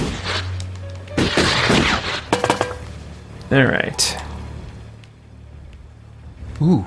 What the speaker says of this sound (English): I hear some big thumping. That sounds like some big giant guy walking around.